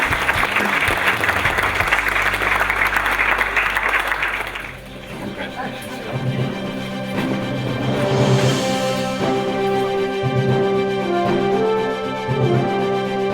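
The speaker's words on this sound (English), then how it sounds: "So please, one more round of applause for our Western." A crowd at the 2015 Canadian Angus National Convention claps during an award presentation, with dense, loud applause for several seconds that fades out as a voice begins speaking over quieter background sound.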